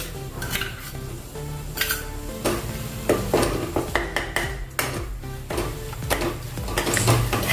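A spoon stirs poppy seeds into softened tomatoes in a pan for chana dal tadka, giving repeated clinks and scrapes against the metal with a faint sizzle underneath, an irregular busy rhythm that stays close and fairly loud throughout.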